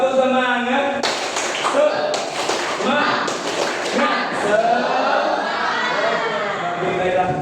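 Students in a classroom do a rhythmic spirit clap, bursts of sharp hand claps in patterned groups mixed with children's voices and chatter.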